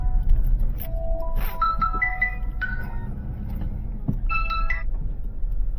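An incoming call sets off a melodic phone ringtone inside a Dodge Nitro. Short bursts of tones repeat over a steady low rumble from the vehicle.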